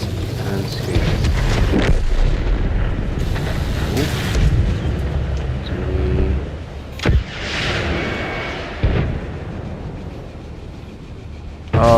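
Tank cannon shots in the console version of World of Tanks, a few deep booming blasts with rumbling decay, separated by pauses under game ambience.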